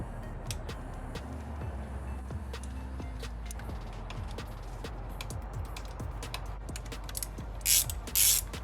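Ratchet turning an E30 Torx bit on a BMW M3 E90 during injector replacement, a run of fine repeated clicks and mechanical ticks at close range, with a louder scrape near the end.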